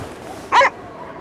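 A single short dog bark, sharp and fairly loud, rings out over a low background hum in the icy Cryostasis game.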